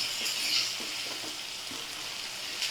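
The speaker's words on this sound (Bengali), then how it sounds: "এবারে ভালো করে আমি ভাজা করে নেব" Chopped tomato and green chilli fry in a pan over medium flame, making a soft, continuous sizzle close by with faint stirring scrapes mixed in.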